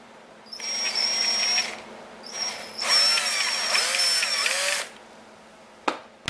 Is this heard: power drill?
yes